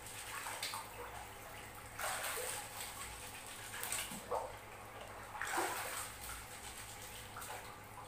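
Soybeans being washed in water while making tempe, with repeated swishing, sloshing surges and drips coming in bursts every couple of seconds, close and moderately loud.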